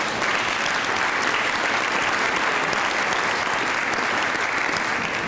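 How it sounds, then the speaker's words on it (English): Steady, dense audience applause at a Rotary farewell address, a full room clapping evenly at constant loudness for about five seconds. "So let's give them a round of applause."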